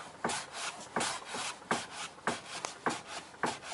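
A Kia Picanto steering wheel is turned back and forth, producing repeated rubbing and knocking sounds at a regular rhythm of about two per second, close and fairly faint.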